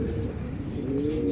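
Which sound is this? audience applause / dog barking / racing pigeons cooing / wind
racing pigeons cooing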